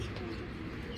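A Giribaz pigeon, held among male birds, gives a soft, low murmuring coo, faint and close, over a quiet background.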